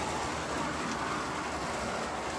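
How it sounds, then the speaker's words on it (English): A steady rolling rumble and whir of a small LEGO Union Pacific GTEL toy train engine hauling a heavy load continuously up a grade, close by with no talking. "it's a big load on the engine, but it is capable of making it up the grade"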